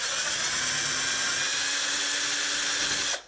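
A drill bores steadily through a vintage quick release skewer, a loud continuous high-pitched whine held close for about three seconds before cutting off abruptly.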